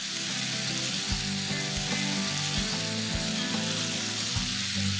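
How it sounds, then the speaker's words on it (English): Prawns fry in a hot pan, street-style, with a steady dense sizzle filling the whole stretch, broken by a few soft stirring knocks; close and continuous with no talking. "These prawns will take barely 2 minutes to cook."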